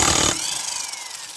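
An impact driver with a 19mm socket removes the rear drum nut on a Honda Activa scooter: a brief loud hammering burst that cuts off, leaving a ringing, fading whine.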